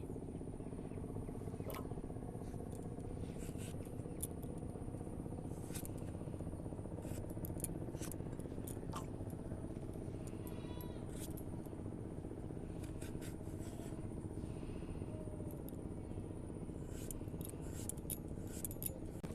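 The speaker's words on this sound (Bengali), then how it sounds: "টুকরো টুকরো করে কেটে নিতে হবে তো দেখুন এই রকমভাবে আমি কেটে নিচ্ছি" Papaya is cut into small pieces for homemade tutti frutti candy, giving faint, repeated light cutting clicks and scrapes over a steady background hiss.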